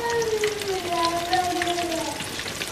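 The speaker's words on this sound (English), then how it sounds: "Thing sizzling like some fried chicken." Vegan ribs frying in a hot pan give off a steady, close sizzle with dense crackling pops that runs through the whole stretch, with faint tonal sounds in the background.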